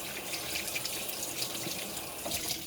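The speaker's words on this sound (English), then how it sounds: "Gotta wash my hands." Water pours steadily from a tap into a sink during handwashing, a close, continuous hiss with faint splashing and no talk.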